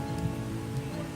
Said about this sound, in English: only to be caught unprepared in a sudden rain.